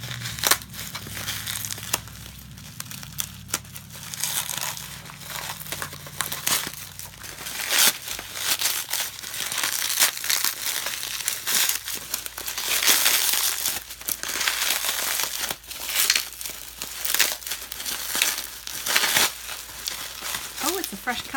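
Tight plastic wrapping crinkles and crackles as it is pulled off a Bath and Body Works candle, with dense, close-up crumpling and tearing bursts running throughout.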